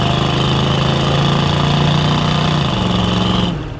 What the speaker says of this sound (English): The exhaust has a good note to it, not terribly loud.